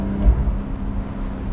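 Low, steady engine drone of a turbocharged Porsche 991.2 Carrera 4S, heard from inside the car as a constant hum with faint road rumble and no talking.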